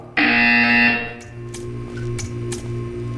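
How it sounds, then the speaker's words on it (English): A loud electronic buzzer in the video game Portal 2 blares for about a second, then cuts off, leaving a low hum and a few light clanks. "You will hear a buzzer."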